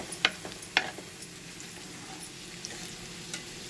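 Tomatoes cooking in hot browned oil for a broad bean and tomato curry, giving a faint, steady low sizzle with a couple of sharp stirring clinks near the start, no talking.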